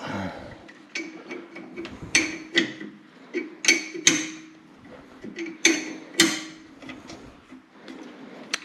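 An oil drain plug is snugged up on an Ariens snowblower, giving a series of close, irregular metallic clicks and taps over a quiet background.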